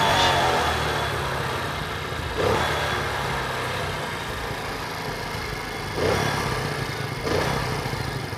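Motorcycle rickshaw engine idles steadily after a restart, a continuous mid-pitched chug with a few louder surges, fairly close and without talk.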